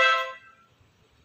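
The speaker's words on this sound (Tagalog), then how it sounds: "I-press natin tong busina." A single short car horn blast at the start, then near silence, ending with a brief click.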